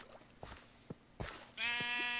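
A Minecraft sheep gives a harmonic bleat of about half a second near the end, loud against quiet game ambience with a few soft footstep-like taps earlier.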